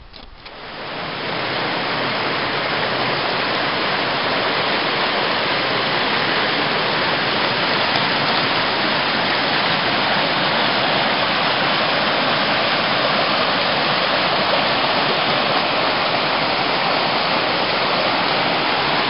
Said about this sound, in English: pump some water out of a stream here somewhere